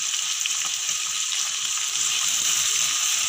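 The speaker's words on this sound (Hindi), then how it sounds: "अब हम इसको करते हैं अच्छी तरह फ्राई" Mutton sizzles and fries steadily in a pan while being prepared for pulao, a close, continuous crackling hiss with faint stirring.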